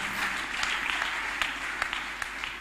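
A church congregation claps hands together in a steady, lively patter that fills the space, with a few sharper claps standing out.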